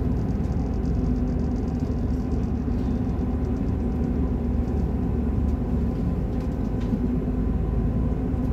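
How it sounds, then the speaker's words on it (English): Inside a moving Class 158 train, unit 158863, a steady loud rumble and rolling rail noise fill the carriage, with faint rhythmic clicks from the track. "now we are on a really nice train"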